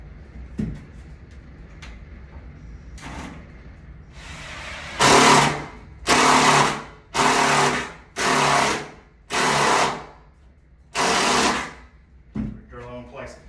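A drill drives a Tapcon masonry screw while a custom crawlspace door is installed, six loud bursts of whirring in steady succession after quieter handling noise, with a voice speaking briefly near the end.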